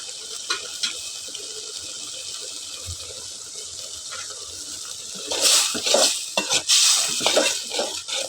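Spice masala frying in a pan for a dried fish and eggplant village curry, a low sizzle that swells after a few seconds into loud, rough bursts of stirring and scraping against the pan.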